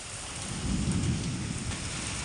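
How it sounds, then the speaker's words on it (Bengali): Heavy rain pouring steadily with a low rolling rumble of thunder swelling in the middle, dense and loud throughout. "দেখছো পুরো বৃষ্টি পড়ছে।"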